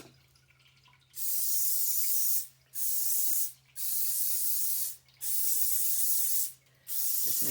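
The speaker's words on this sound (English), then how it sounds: "Just make sure you spray your pan." Cooking spray hisses onto a muffin tin in four bursts of about a second each, separated by short gaps, close and clear with no voices, ahead of filling the cups with batter.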